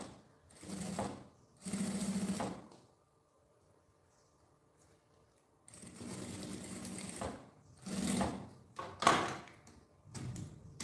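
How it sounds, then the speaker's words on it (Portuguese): A sewing machine runs stitching bias binding around the edge of an oral-hygiene case, in short whirring bursts separated by quiet pauses, close and fairly soft. "coloco aqui o meu viés e vou passar uma costura bem na beiradinha"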